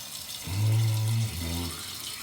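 Toilet tank flushing, a short low gurgling rush of water swelling and then trailing off into a quieter refill hiss, heard close up indoors.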